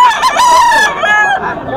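A Brass back stag gamecock at a gamefowl market lets out one loud, close crow, a long wavering cock-a-doodle-doo lasting under two seconds.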